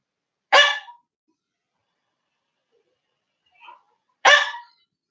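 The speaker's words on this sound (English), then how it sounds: "Why are you barking at me?" A pet dog gives two sharp, loud barks a few seconds apart in a quiet room, with a faint small sound between them.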